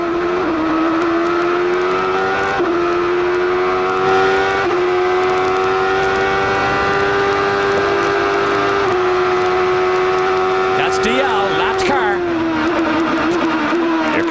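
An onboard Champ Car race car engine screams at full throttle around the 2005 Toronto street circuit, a loud sustained high-pitched wail that climbs through the gears, with brief dips at each shift.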